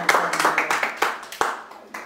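A few people clap briefly for a visiting urban music artist during an interview, with sparse, uneven hand claps rising and fading over about two seconds.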